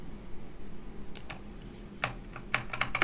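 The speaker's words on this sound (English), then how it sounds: "oops, I hit my keyboard here." Computer keyboard keys tapped on a desk in a few scattered clicks, then a quicker burst of keystrokes, close and clear over a quiet room hiss.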